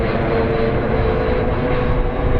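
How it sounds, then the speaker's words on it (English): Delta Airlines jet passing overhead, a steady broad roar that fills the whole stretch, loud and continuous without letting up. "Jet noise complements of Delta Airlines"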